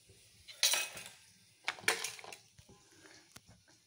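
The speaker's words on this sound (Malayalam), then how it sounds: "ആദ്യം നമുക്ക് ഇഞ്ചി ചോപ്പറിലിട്ട് ഒന്ന് സ്ലൈസ് ചെയ്തെടുക്കാം" Ginger being sliced in a kitchen chopper for Onam inji curry: two sharp crunchy bursts with light plastic and blade clatter between them, close and moderately loud, with no talking.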